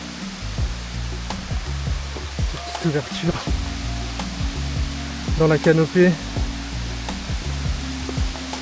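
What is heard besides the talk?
jungle waterfall with small pools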